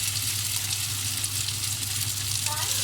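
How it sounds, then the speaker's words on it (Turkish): Bulgur and minced-meat meatballs fry in hot oil in a pan, a steady, dense, continuous crackling hiss with a low hum underneath. "Yağ sesi"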